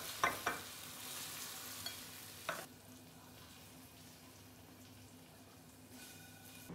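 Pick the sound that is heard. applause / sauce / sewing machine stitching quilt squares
sauce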